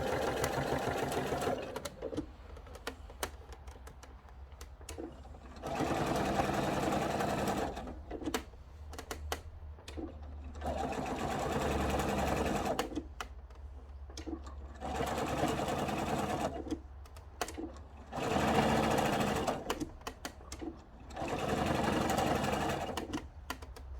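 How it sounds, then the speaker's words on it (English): A sewing machine stitching a quilted peg bag runs in several bursts of fast, even whirring, several seconds each, with quiet pauses between them. "and now start to sew down here."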